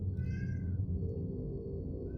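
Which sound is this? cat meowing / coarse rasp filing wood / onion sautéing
cat meowing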